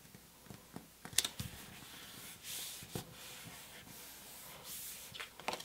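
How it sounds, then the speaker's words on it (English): Scissors make a few crisp snips through paper at close range, quiet with pauses between cuts. "you take a pair of scissors and then you cut a slit"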